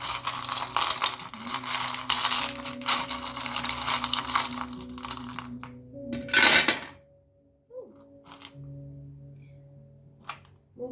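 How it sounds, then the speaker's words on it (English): Tarot cards are shuffled in a rustling, riffling burst that fades, followed by a few soft taps and light clatters against a quiet background. "So I'm going to close my eyes and shuffle."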